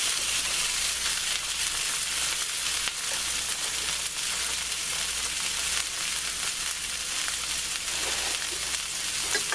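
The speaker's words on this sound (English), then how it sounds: "we're just going to turn them, lightly brown them" Italian sausages browning in a pan, a steady loud sizzle and crackle of frying fat running unbroken throughout with no talking.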